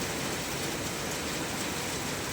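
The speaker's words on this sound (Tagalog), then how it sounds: "grabe ang ulan" Heavy typhoon rain pouring steadily, a dense, loud, unbroken hiss of downpour with no voices.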